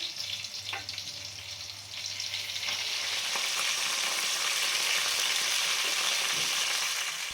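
Green chillies and curry leaves frying in hot oil give off a steady close sizzle that swells louder midway, with occasional spoon stirs and no talking.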